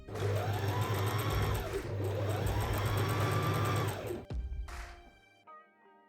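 A sewing machine runs a seam joining the bottom and side of a leather trench coat, two close, steady bursts of rapid whirring stitching followed by a brief clunk and fading motor hum.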